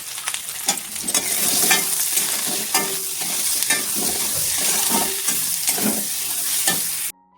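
Onion frying in a pan with turmeric and salt, a steady loud sizzle with repeated scrapes and clanks of a spoon stirring, close up and with no talk, ending abruptly.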